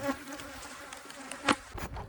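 Agitated honey bees from a swarmed hive drone nearby, with a few louder individual fly-bys cutting through the steady buzzing, no speech.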